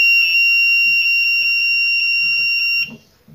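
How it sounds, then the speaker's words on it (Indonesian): A multimeter's continuity buzzer sounds on the primary pins of a phone-charger transformer, one steady loud high-pitched tone lasting nearly three seconds before cutting off, alone with no talk. "kita dengarkan suara dari buzzer ya"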